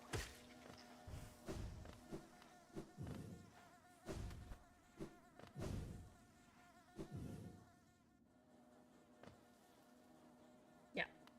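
Insect buzzing from bees in the video game Hollow Knight, a soft droning hum running under repeated thuds and game effects, with a louder burst near the end.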